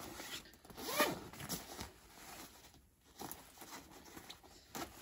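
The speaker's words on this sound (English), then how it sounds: "in the summer you can zip this completely off" A stroller footmuff zipper being unzipped, a quick ripping zip rising near the start, then softer fabric rustling and handling close by.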